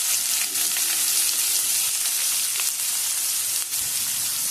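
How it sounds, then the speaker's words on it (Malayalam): Chopped onions with curry leaves sauté in a pan for Chettinad egg curry, giving a loud, close, unbroken sizzle with faint stirring and no speech. "ഇത് നല്ല ഗോൾഡൻ ബ്രൗൺ നിറാവുന്നവരെ വഴറ്റിയെടുക്കണം."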